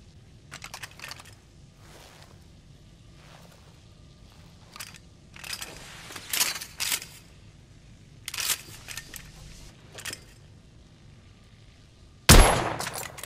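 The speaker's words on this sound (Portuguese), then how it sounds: "Bom tiro." Gunshots from a scoped long-range rifle in a video game: several sharp cracks scattered over quiet stretches, with a final loud, close report near the end.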